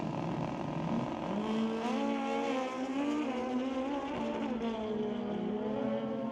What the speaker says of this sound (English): Both bikes out there, Oman tracking a little left, getting that bike back into the groove